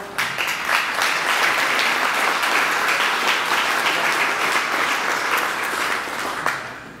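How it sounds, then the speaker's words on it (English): Dense, sustained applause from the audience at a newspaper grand opening, the Windsor Star, fills the room loudly and evenly for several seconds before tapering off at the end. "And that applause is so well deserved"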